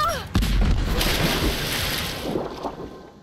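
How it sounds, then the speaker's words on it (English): A grenade blast in the Rise of the Tomb Raider video game, a sharp booming burst that rolls into a long noisy rumble and fades over a few seconds, with no speech over it. "Grenade out!"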